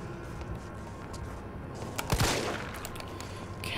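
Gunfire in Resident Evil 3 Remake, a dense burst of shots rising out of a steady game soundscape at mid-distance, with no talking.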